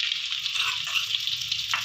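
Ground spice paste sizzles steadily in hot cooking oil for a chicken-neck tongseng, a close, continuous frying hiss with no talk over it.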